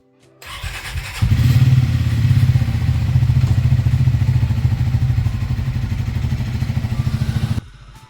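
Two motorcycles ride together on a road during a pre-dawn trip to Kodaikanal: a steady, loud, close engine drone with a chugging pulse, holding for about six seconds before cutting off abruptly.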